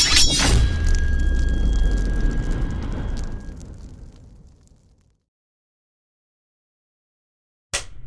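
A loud explosion in the video game Monster Hunter Wilds booms and rumbles, slowly fading to silence, then a second sharp blast cuts in at the end.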